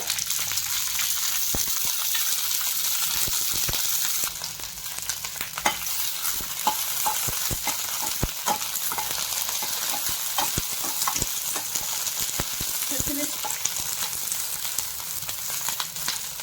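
Green chillies frying in oil, a bright steady sizzle broken by clinking, scraping stirs of a utensil against the pan, close and with no speech.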